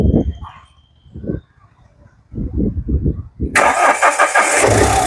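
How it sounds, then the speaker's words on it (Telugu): A 2017 Mahindra Scorpio S4+ diesel cranks in short bursts and then catches, settling into a loud, steady idle close by. "సింగిల్ సెల్ఫ్లో బండి స్టార్ట్ అవుతుంది సార్."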